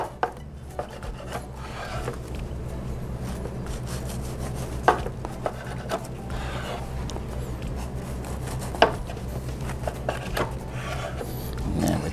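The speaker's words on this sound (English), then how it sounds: "So we'll just take 3, cut it with a knife" A knife slices through poke sliders on a plate with soft rubbing strokes and a few sharp taps against the plate, close up under a low steady hum.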